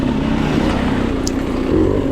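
A second dirt bike revs behind the rider during a hare scramble race in the Blue Ridge Mountains, its engine a steady, loud, close roar that rises slightly near the end with no talk.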